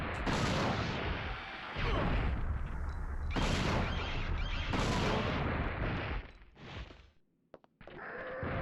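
Rapid bursts of heavy gunfire from a weapon blasting dinosaurs in Dino Crisis 2 on the PS1, loud sustained volleys broken by short pauses and a brief quiet gap near the end.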